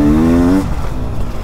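A 2023 Beta 300 Race Edition two-stroke dirt bike putts along in the woods, its engine droning loud and near before easing off into a rougher, lower rumble.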